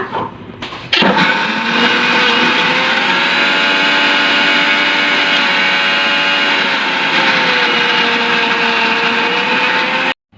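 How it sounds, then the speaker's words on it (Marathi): A mixer grinder whirs loudly and steadily, grinding soaked lentils for several seconds before abruptly cutting off. "आता आपण हिला मिक्सरमध्ये बारीक वाटूया"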